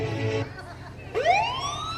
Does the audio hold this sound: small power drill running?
no